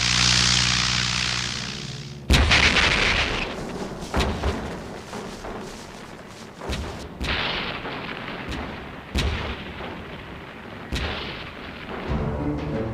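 German anti-aircraft flak cannon fire in sharp, heavy bursts at irregular intervals over the loud, steady drone of wartime bomber propeller engines.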